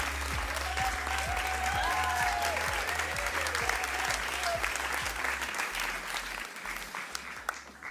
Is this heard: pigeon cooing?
no